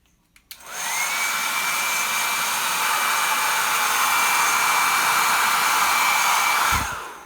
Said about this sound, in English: You can use a hairdryer to make your drying faster